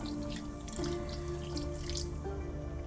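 Water is poured into a pot of simmering gyudon sauce made with soy sauce, giving a steady close trickling and pouring sound over a constant low simmering background.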